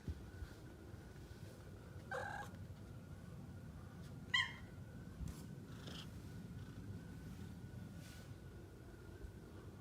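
A kitten makes soft, faint sounds against a low steady background hum, with a few brief mewing or chirping calls spread across about ten seconds.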